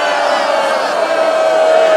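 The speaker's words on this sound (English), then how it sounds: "Big applause" Crowd at an outdoor Tea Party rally in Washington, D.C. applauding and cheering, a dense steady roar of clapping and voices that swells slightly toward the end.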